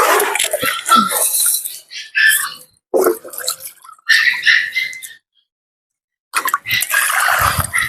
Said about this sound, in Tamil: தண்ணியை விட்டுட்டு போனோம்.